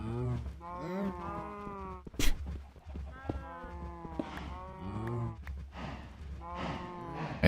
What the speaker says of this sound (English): I love the sound of the cows.